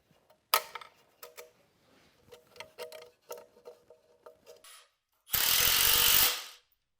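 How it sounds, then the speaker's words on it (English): Ratcheting wrench tightening the clamp bolt on a KC Turbos 6.0 balanced turbo, a run of quick close metallic clicks, then a loud burst of hiss near the end. "put the bolt on and tighten it down"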